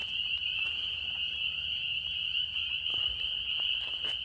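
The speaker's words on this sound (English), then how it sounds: "the crickets and the frogs and everything just in harmony right now out here." Steady high-pitched cricket trilling runs continuously through the night air on a trail, with scattered low frog croaks beneath it, all at an even, moderate level.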